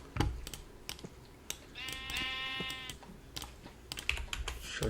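A single Minecraft sheep bleat rises briefly amid steady clicking and tapping, like keys on a keyboard, at a fairly low level.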